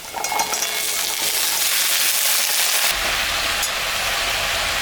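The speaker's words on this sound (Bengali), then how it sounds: "আমি এখন কাঁঠালটা দিয়ে দিই" Jackfruit going into a pan of fried onions and spices, giving a busy sizzle that suddenly deepens and thickens partway through as the pieces hit the oil, close and continuous, with no talking.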